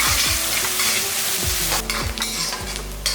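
Coriander leaves sauté in hot oil with onions for a chicken kulambu, with a loud, steady sizzle and rhythmic spatula strokes scraping the pan at close range.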